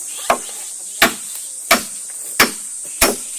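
Hammer blows driving nails into a wooden railing being built at an outdoor camp, five sharp evenly spaced strikes about 0.7 seconds apart, close and clear over faint background ambience.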